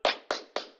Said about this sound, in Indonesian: yel-yelnya itu adalah tepuk semangat ya